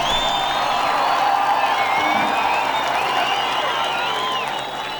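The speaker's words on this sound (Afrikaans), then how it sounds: "so ek kan vir hom 'n applous gee" An audience cheers and whoops loudly in a dense, sustained crowd roar, with clapping and shrill voices rising and falling before fading slightly at the end.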